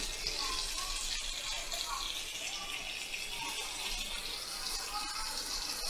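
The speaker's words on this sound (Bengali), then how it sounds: "এবার ওই একই তেলে আমি জিরে ফোড়ন দিয়ে দেব।" Cumin seeds tempering in hot oil, reused oil in a Bengali kitchen, giving a steady, dense hiss of sizzling frying with no break, close and fairly loud throughout.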